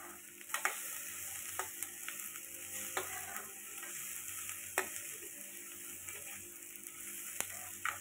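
A mixture for butter chicken is stirred and cooked in a pan, with a soft steady sizzle under scattered scrapes and clicks of the spoon against the pan, close by and at low volume, with no voices.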